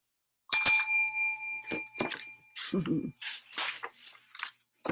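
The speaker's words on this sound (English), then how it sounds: "when the doorbell rang" A bright doorbell chime rings once near the start and fades, then a voice reading a story aloud follows.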